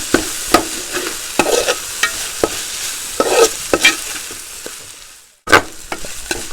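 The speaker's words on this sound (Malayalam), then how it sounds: "നമുക്ക് ഇതിലേക്ക് ഒരു തക്കാളി അരിഞ്ഞ് വെച്ചിരുന്ന തക്കാളി കൂടെ ഇതിലേക്ക് ചേർത്ത് ഇളക്കി കൊടുക്കാം." Chopped tomato stirred into sautéed onions in a pan, with repeated sharp scrapes and clacks of a spoon against the metal over a steady low sizzle, a brief pause near the end, then stirring resumes; no talking.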